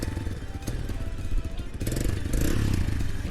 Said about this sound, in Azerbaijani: Motosikletimiz bu şəkildə işə düşür.